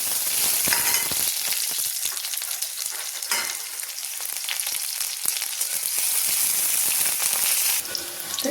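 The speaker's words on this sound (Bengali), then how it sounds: "এখানে ফোড়নে দিয়ে দিচ্ছি কাঁচা লঙ্কা আর পেঁয়াজ।" Green chillies and onion hit hot oil with tempering spices, a loud, dense crackling sizzle that keeps up throughout, close by, with scattered spits and no speech.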